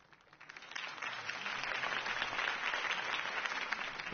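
Campaign crowd applauding Harvey Dent after his speech in the Batman Telltale video game, a steady wash of clapping that swells within the first second and holds evenly.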